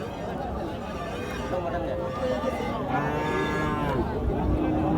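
Cattle moo at a busy roadside cattle market by a ferry ghat in Jamalpur, lowing calls rising over a steady crowd hubbub and chatter.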